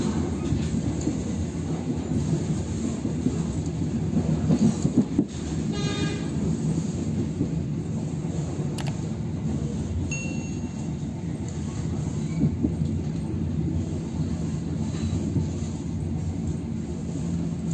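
Passenger train rolling into Kiaracondong station, heard from inside a carriage on the Cimekar–Kiaracondong line: a steady, loud low rumble of wheels on track throughout, with brief metallic squeals and clanks.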